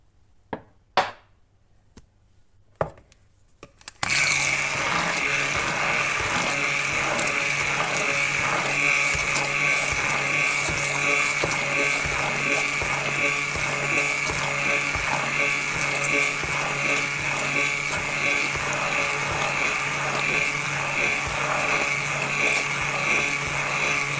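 An electric mixer whisks wet cake batter after a few clicks, running as a steady, close whirr with fine rattling for about twenty seconds, alone.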